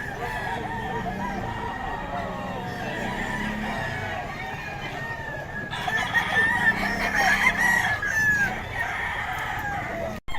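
A white rooster crows loudly nearby, its long rising call standing out over background clucking and farmyard noise.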